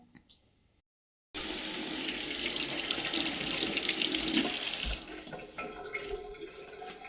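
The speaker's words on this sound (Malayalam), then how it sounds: "നമുക്ക് ആദ്യം മുട്ടയൊന്ന് കഴുകിയിട്ട് പുഴുങ്ങാം" Tap water gushes steadily into a sink for several seconds while eggs are rinsed under it, then the flow stops, followed by light clattering.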